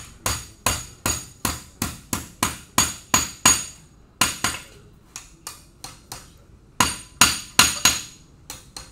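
Hammer blows on a metal piece clamped upright in a vise, bending it square: a steady run of sharp, loud ringing strikes in quick succession, pausing briefly twice before more rapid blows, with no talking.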